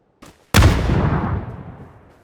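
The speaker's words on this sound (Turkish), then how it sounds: "Bak bomba geldi görüyor musun?" A bomb detonates in a video game with a sharp, loud boom that decays over about two seconds, preceded by a faint short pop.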